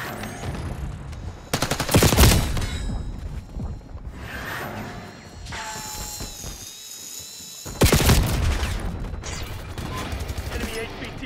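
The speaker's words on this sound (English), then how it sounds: "HVT is taking fire." Call of Duty video game gunfire: bursts of rapid automatic shots and heavy impacts, loud near the start and again near the end, with game radio chatter and tense score in between.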